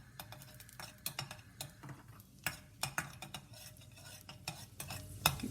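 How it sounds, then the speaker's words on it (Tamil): Raisins roasting in ghee in a pan for moong dal laddu: scattered sharp taps and light scrapes of a spoon stirring, with faint sizzling underneath, close and fairly quiet. "இப்போ நான் ரைசின்ஸ் கீயில் நல்லா வறுத்துட்டேன்."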